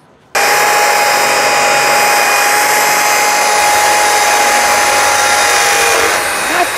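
A rotary polisher fitted with a 400-grit interface pad works the stainless steel body of a DeLorean DMC-12, making a loud, steady high whir with a thin tonal whine that runs unbroken close up.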